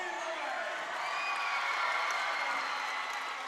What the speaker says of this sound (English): Listen to this crowd enjoying the second unit getting in and getting some time.